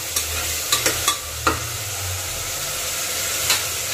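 Onions and tomatoes fry in a pan for vegetable palav, a continuous sizzle broken by several sharp scraping stir strokes close by.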